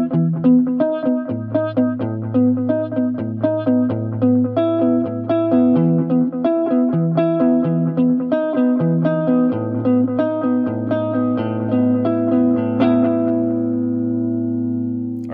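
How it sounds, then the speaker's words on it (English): Electric guitar played through an MXR Carbon Copy analog delay pedal with the Phase 90 distortion switched off, a clean melodic line with repeating echoes trailing each note, steady and close for about fifteen seconds with no talking. "So I've turned off the distortion in the Phase 90, and here's the delay sound."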